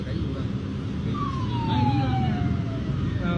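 A passing police car siren wails at moderate distance, its tone sliding downward as it goes by, heard over steady street and traffic noise.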